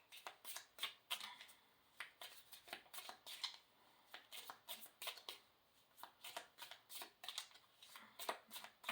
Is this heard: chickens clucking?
no